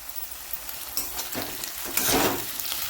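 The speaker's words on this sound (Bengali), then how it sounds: "আর এই পেঁয়াজ ভাজা হচ্ছে যখন, এর মধ্যে আমি কিন্তু এই কাঁচা লঙ্কাগুলোকে অ্যাড করে দেবো" Onions with green chillies frying in a pan give a steady sizzle with scraping stirs, growing louder toward the end, close by and without any voices.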